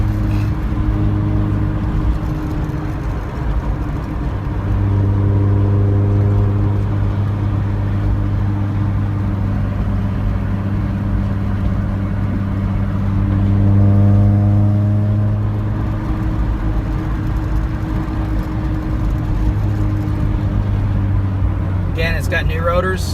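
A 1988 Honda Civic wagon cruises at close to 60 mph, giving a steady low engine drone with road and wind noise. The engine note swells and fades twice as the car holds speed.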